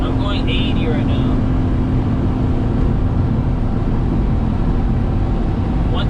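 A Daihatsu HiJet kei truck cruises at 80 km/h, its engine drone buried in a constant roar of wind and road noise, steady throughout with a faint higher whine briefly near the start.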